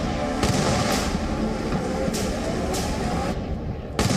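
Explosions in the war between Azerbaijan and Armenia, heard as a steady, loud rumbling barrage with several sharper bursts punching through, one near the start and another near the end.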